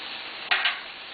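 Broccoli frying in a hot skillet, a steady sizzle that swells briefly as it is stirred, close and fairly loud, with no voices.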